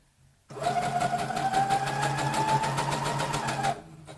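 A sewing machine stitches fabric for a Christmas tree decoration, running steadily for about three seconds in a close, loud, even mechanical whir after a brief quiet start.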